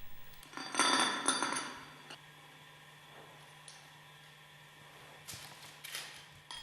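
Metal parts clink and rattle as a plate is mounted and an eye bolt is screwed into the bowl bottom of a GEA Westfalia OSD separator, a burst of close clatter, then quiet, then a few light knocks.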